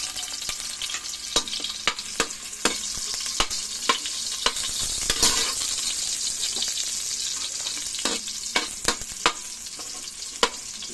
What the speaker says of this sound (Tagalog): Igisa na natin ang ating mga sangkap. Unahin natin yung bawang guys.